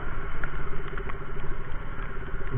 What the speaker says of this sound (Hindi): भाई बारिश तो बहुत जबरदस्त पकड़ लिया यार